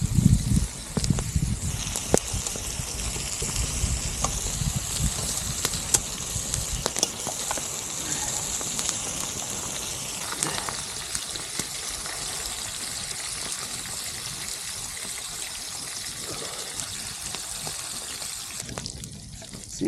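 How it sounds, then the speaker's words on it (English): Bacon sizzling in a pan over a campfire outdoors in winter, a steady crackling fry with occasional pops, close and moderately loud throughout. "See if got any bacon done yet."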